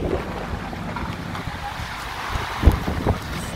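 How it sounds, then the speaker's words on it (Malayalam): Strong wind blowing during snowfall at Gudauri ski resort, buffeting the microphone as continuous rumbling gusts with a few sharper thumps; no talk. "നല്ല കാറ്റും ഉണ്ടായിരുന്നു സ്നോഫോൾ ചെയ്യുമ്പോൾ."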